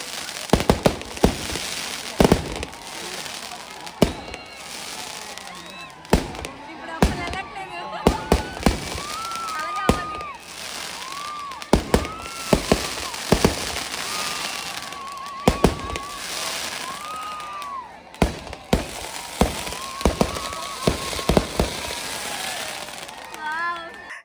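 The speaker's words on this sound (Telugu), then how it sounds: "వీళ్ళు క్రాకర్స్ కాలుస్తుంటే దగ్గరికి వెళ్ళిపోయారు కావాలని" Firecrackers set off during a Sankranti celebration in Konaseema: sharp, loud bangs and crackling bursts go off irregularly throughout, with a few whistling rockets, while a crowd's voices, children's included, carry on underneath.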